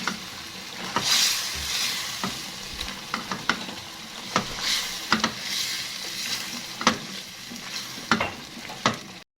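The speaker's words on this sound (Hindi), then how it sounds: "देखिए आलूओं के साथ चिकन की जो है ना वो भुनाई हो रही है।" Potatoes and chicken with spices fry in a pot for aloo gosht, giving a constant sizzle under repeated spoon scrapes and stirring knocks at close range.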